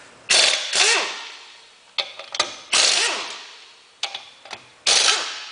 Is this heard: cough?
no